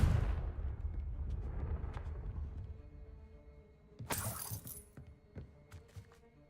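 A Confringo blasting spell cast in Hogwarts Legacy lands as a sharp, bright crackling burst with a shattering edge, followed by a few scattered snaps. It fades out over a low rumble.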